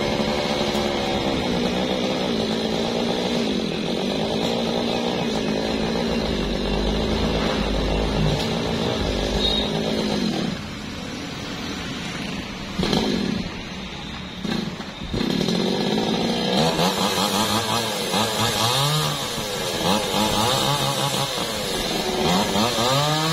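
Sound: chainsaw cutting young branches of a large old tree

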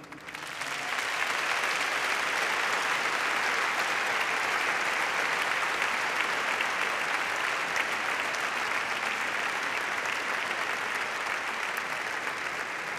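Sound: audience applause at a graduation ceremony

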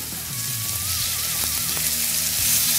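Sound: chicken frying in hot pan

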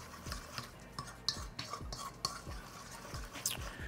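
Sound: stirring ingredients together in a bowl

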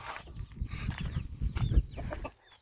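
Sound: Silkie rooster clucking in a henhouse

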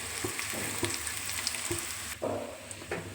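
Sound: spice tempering sizzling in pan

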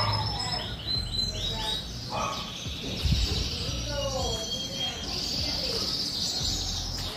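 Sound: birds chirping outdoors

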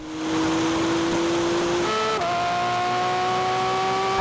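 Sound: Porsche 911 GT3 RS and Maserati MC20 racing

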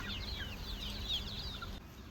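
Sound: native country chickens in a farm

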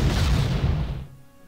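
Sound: artillery shooting in the video game Panzer Corps

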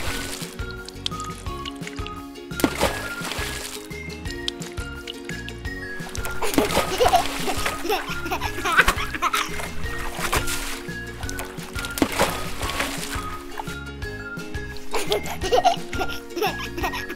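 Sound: water splashing as a baby plays in a small basin of toys

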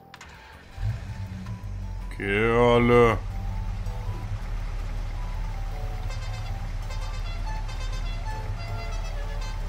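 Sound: vehicle engine starting in Farming Simulator video game

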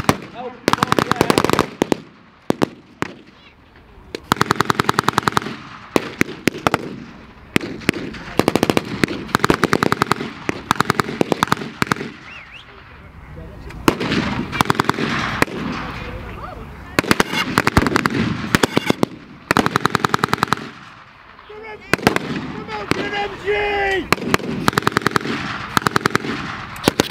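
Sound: explosions and machine gun fire at a battle reenactment show

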